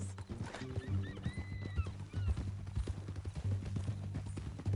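Horse hooves clip-clop in a rhythmic trot in the Western video game Red Dead Redemption, close and steady, with low rumbling and chirping wildlife sounds around them.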